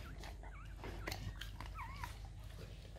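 A dog quickly eats a raw deer kidney outdoors on a rural seaside property, with wet chewing and gulping up close, while birds chirp in the background over a steady low rumble.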